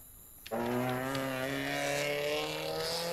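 A heavy video game truck engine suddenly starts up and drones loudly, a deep steady roar with a rising hum, like a big truck idling nearby.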